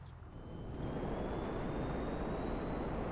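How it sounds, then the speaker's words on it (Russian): A plane in GTA Online drones steadily, a broad engine and wind roar that swells slightly at the start and then holds at an even level, heard alone. "Классный самолет, блин."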